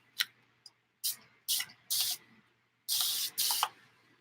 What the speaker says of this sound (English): Now I'm gonna spray this over here to the side.